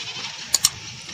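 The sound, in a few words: goat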